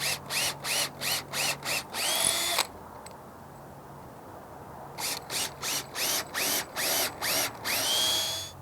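Power drill pre-drilling holes for a shade fascia bracket: rapid pulsing bursts of the motor, a run of short trigger pulses, a pause, then another run, close and loud with no talk.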